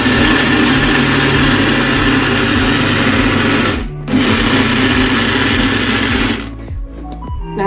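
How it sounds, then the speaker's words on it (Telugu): A mixer grinder churns soaked fenugreek seeds, a loud close motor whine with rhythmic pulsing that cuts out briefly, restarts, then stops with rattling clicks near the end. "ఫస్ట్ ఇలా మిక్సీ చేసుకుందాం"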